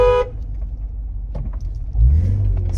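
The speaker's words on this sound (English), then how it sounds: "This person's coming this way, way over the speed limit, went flying by it, didn't even slow down." A car speeds past on a rural farm road far over the speed limit without slowing, a loud engine rumble swelling near the end of the moment, with no talking.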